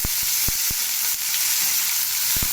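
Flat beans (sim) sizzle steadily in hot oil in a pan, a dense close hiss with a few sharp pops and spatters and no talking.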